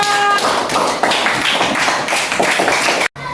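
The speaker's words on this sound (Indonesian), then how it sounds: "tepuk tangan untuk kita semua" Classroom students clapping their hands together in a quick, steady patter that fills the room, loud and close, stopping abruptly near the end.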